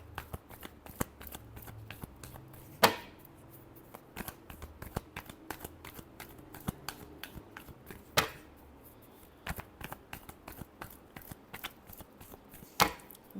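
Tarot cards shuffled close up in a repeated riffle-and-tap pattern, quick papery flutters broken by a few sharper slaps of the deck, with no voice over them.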